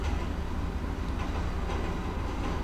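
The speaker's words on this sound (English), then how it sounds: "Hear a train coming. Passenger train!" A passenger train passes nearby, producing a steady, loud rumble of wheels and cars that stays constant across the whole moment, with no talking.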